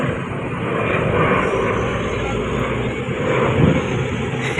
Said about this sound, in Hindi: ये जहाज़ है उठ रहा है